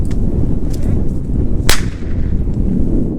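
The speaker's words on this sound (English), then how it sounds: "It then hits the bang-snap fireworks at the base, creating a loud bang." An airsoft impact grenade strikes bang-snap fireworks at its base, producing one sharp, loud crack that stands out over steady background rumble.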